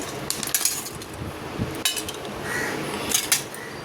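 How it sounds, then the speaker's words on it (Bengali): Metal dishes, plates and utensils being picked up and stacked one by one after a puja offering, with bright close clinks and clatters at an uneven pace. "এই যে বাসন তুলে নিচ্ছি, বাসন তুলে দিচ্ছি ঠাকুরের।"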